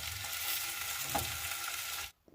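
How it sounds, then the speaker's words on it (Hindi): Potato sabzi fries in a small tadka pan with a steady, close hiss and crackle of hot oil and faint stirring, ending abruptly in near silence. "इसी में बन जाएगी तड़का पैन में सब्ज़ी।"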